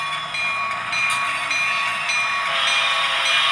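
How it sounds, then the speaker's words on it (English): A sound decoder in an HO scale Florida East Coast GP40-2 locomotive model plays a steady high metallic squeal of wheel flanges over a continuous railcar rumble, sustained for the whole stretch without speech. "you get to hear the flanges squealing, which is pretty cool"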